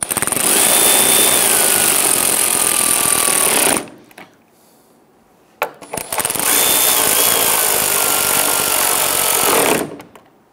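A power tool snugs down the mounting bolts on the AC condenser of a 2011–2019 Ford Explorer, with two loud, sustained whirring bursts of about four seconds each and a short quiet gap between them.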